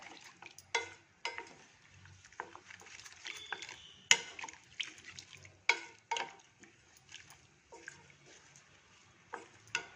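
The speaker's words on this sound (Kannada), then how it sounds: "ಇನ್ನೊಂದು ಸ್ವಲ್ಪ ನೀರು ಹಾಕಿ ನಮಗೆ ತೆಳ್ಳಗೆ ಹೇಗೆ ಬೇಕು ಹಾಗೆ ಮಿಕ್ಸ್ ಮಾಡ್ಕೋಬೇಕು" Soup powder is stirred into water in a kitchen: quiet scraping and sloshing strokes come in irregular bursts with small clinks, close but faint, with no talking.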